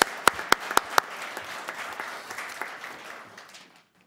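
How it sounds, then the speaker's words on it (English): A few sharp individual claps ring out at a committee meeting, then a crowd breaks into full applause that gradually thins and fades to silence. "So another big round of applause for the group."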